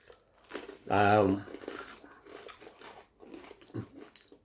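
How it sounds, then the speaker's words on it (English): Thick garlic-flavoured crisps are bitten and chewed close up, with several sharp crunches spread through the stretch and a loud voiced murmur near the start. "Very nice, thick, crisp. Very crunchy."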